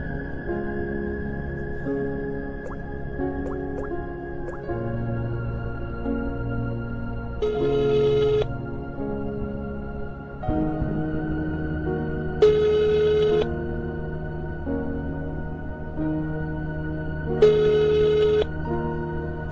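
A telephone rings in three short bursts spaced about five seconds apart, each ring loud and clear over a steady low background hum of music.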